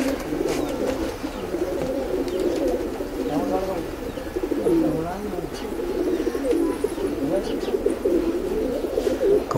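Pigeons of an old breed kept by a local keeper in Meerut, cooing steadily in low rolling calls throughout, close by, with someone talking over them.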